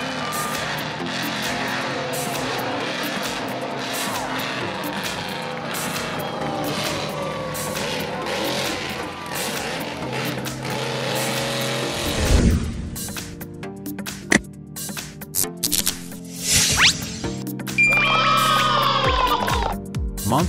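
A Monster School Bus monster truck, built on a school bus chassis with upgraded chassis and tires for off-road racing, roars loudly and steadily, then the engine drops into uneven bursts and hisses near the end.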